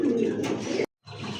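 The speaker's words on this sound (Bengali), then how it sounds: "দেখতে পাচ্ছেন এক জোড়া বোম্বাই কবুতর" A pair of Bombay pigeons with yellow coloring and red beaks coo close by in a loud, steady burst, broken by a brief silent gap before the cooing resumes.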